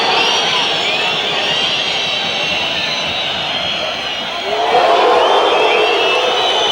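A football stadium crowd at a 1994-95 Champions League group match between Galatasaray and Manchester United keeps up a sustained roar of hooting and shouting, swelling louder near the end.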